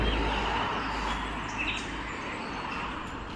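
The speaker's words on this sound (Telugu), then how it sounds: "ఇది అన్ని చిలకలు సౌండ్ చేస్తున్నాయి ఇక్కడ" Parrots call outdoors on a day out in France, their faint chirps rising briefly above a steady, loud wash of broadband outdoor noise.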